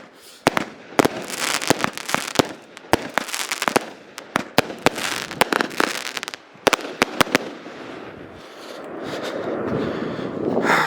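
Fireworks go off at a stunt crew's outdoor shoot, one bursting low. A rapid, loud run of sharp bangs and crackles sounds close by for about eleven seconds, ending in a rougher stretch of wind buffeting.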